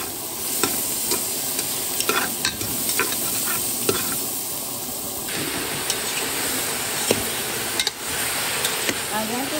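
Onion and ginger sizzle in oil for chicken tinola, a loud, dense, steady frying hiss with frequent sharp clanks of stirring against the pan, and a voice speaking faintly at times.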